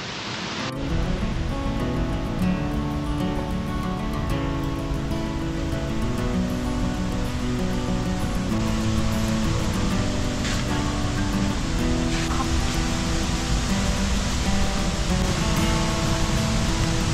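A steady, dense roar of falling water from a waterfall in Bali fills the scene, continuous and loud without pause, heard up close.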